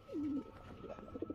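Pigeons in a pair being shown for sale coo, first with one long, smooth, close call and then a run of shorter pulsing coos, with no talking.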